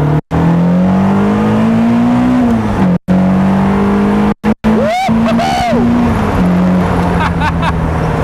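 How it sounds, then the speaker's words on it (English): A Caterham Seven 420R's engine pulls steadily up toward its red line in gear, a loud, sustained note with brief gaps at shifts, heard up close from inside the car over a voice talking. "Now, you can feel the power band coming in a bit further up the rev range, and it is relentless up to the red line."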